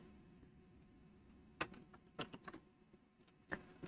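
Computer keyboard keys clacking in short irregular bursts while code is typed, a handful of distinct taps over a quiet room background with no voices.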